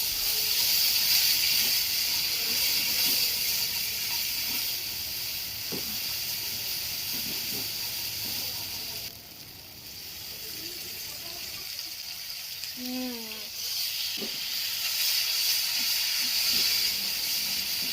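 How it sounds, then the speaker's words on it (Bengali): Ginger garlic paste frying in a pan, a continuous steady sizzle and hiss that dips briefly midway and then returns, with no talking. "এভাবে একটু ভালোভাবে লাল লাল করে ভেজে নিতে হবে, যাতে এটা আদা রসুনের গন্ধটা একেবারেই না থাকে।"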